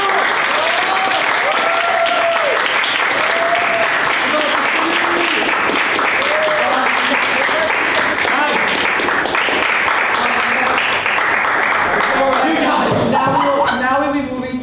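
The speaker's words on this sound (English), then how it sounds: "Clapping is in order." A conference-hall audience at a Model UN session breaks into loud, sustained applause, many hands clapping densely for about fourteen seconds before thinning out near the end, with scattered voices and shouts mixed into the clapping.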